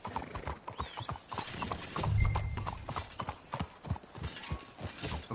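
Horse hooves clip-clopping in Red Dead Redemption 2, a steady rhythmic trot of several animals close by with a brief whinny midway, over quiet game ambience.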